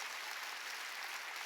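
A church congregation applauds at a New Year's Eve service: a dense, even wash of clapping that fills the whole short stretch at moderate distance, with no voices on top.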